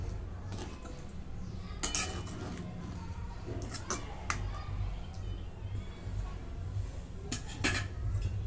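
Clinking metal on a pan as a lid is set over paneer masala, a few sharp chinks and clatters above a steady low kitchen rumble.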